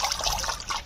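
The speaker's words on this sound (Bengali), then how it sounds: "এই পুঁই শাকটা এবার ধুয়ে নেবো" Water running and trickling while Malabar spinach (pui shak) is washed, a short close burst of splashing liquid lasting under a second.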